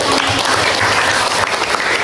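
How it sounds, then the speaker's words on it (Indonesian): Audience applause at a talk on climate change and Indonesian food security, a dense, steady wash of clapping filling the whole stretch at close range, with no voices over it. "Tepuk tangan, kalian"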